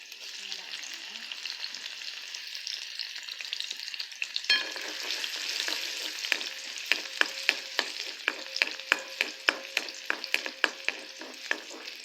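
Chopped garlic dropped into hot oil sizzles and crackles in a pan, a sudden hiss after a few seconds followed by rhythmic scraping as it is stirred, close and lively with no voices.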